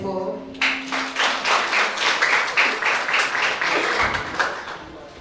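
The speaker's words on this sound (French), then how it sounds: "notre deuxième promotion, que j'aimerais déjà qu'on acclame très fort" Audience applause at a graduation ceremony for a second class of beauty-school students, a dense, steady wash of many hands clapping that swells in after a brief voice and holds loud and close for several seconds.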